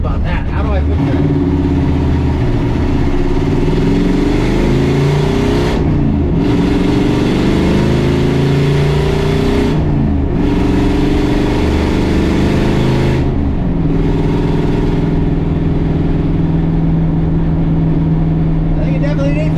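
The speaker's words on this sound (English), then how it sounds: "That sounded like backfire down there." A turbocharged, LS-swapped Chevrolet Silverado with a T56 gearbox drones loudly and steadily up close, with a few abrupt dropouts and cracks as it backfires; the engine sound runs throughout.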